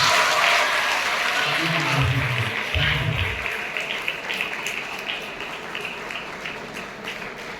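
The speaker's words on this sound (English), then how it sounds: "you can clap once for yourselves" A crowd of students bursts into lively applause at a Samvidhan Divas (Constitution Day) celebration, gradually thinning and fading, with a voice briefly speaking over the clapping early on.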